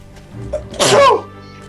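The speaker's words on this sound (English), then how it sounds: "I sneezed." One loud, close sneeze bursts out during a gaming livestream, a sharp explosive breath following a short inhale, with faint background sound around it.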